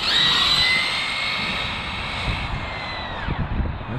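A 1/8 scale electric RC drift car on a 4S battery runs at full throttle, its motor giving a loud, high whine that holds steady and then drops off near the end.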